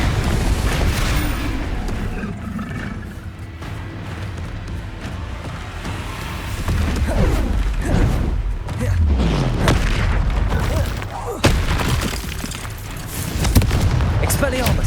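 Blasting spell explosions from the Confringo curse in Hogwarts Legacy: repeated loud booms and crackling bursts amid game effects, with a voice speaking over the combat.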